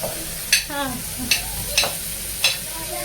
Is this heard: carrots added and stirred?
yes